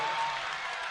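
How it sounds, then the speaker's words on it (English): A women's college basketball crowd, Utah Tech at home in a tied game with a minute left, roars and applauses in a dense, steady wash of cheering throughout. "The crowd is on their feet."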